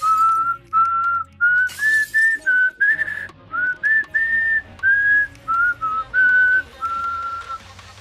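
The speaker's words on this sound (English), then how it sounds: "And I gotta whistle a tune." A person whistles a tune in short, clear, melodic phrases with brief gaps between them, close and fairly loud, with no talking over it.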